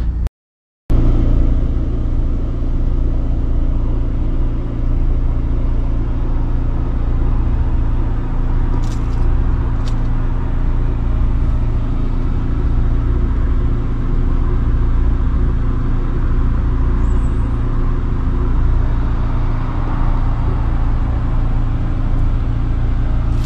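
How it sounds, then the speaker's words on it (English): A diesel heater runs in an RV on a cold, foggy morning, producing a steady low droning hum and rumble that holds for the whole stretch, with a few faint clicks. "Got that diesel heater going."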